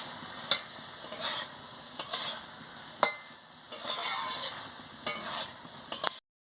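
Telakucha leaf curry being stir-fried in a pan, several scraping strokes of a spatula over a steady sizzle, close and distinct, in uneven bursts about a second apart, with no talk.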